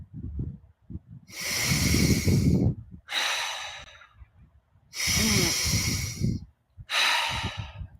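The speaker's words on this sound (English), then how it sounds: "About 10 more deep breaths here." Deep breathing in a breathwork exercise, heard close and loud: long hissing inhales and exhales come in four strong cycles, each lasting one to two seconds, with brief quiet gaps between them.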